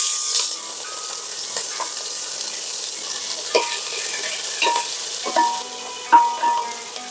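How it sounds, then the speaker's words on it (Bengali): Chopped spring onions fry with ginger in a pan, a soft high sizzle broken by scraping stirs at irregular intervals, close and fairly loud, with no speech. "দু মিনিটের মতো ভাজা হয়ে গেছে"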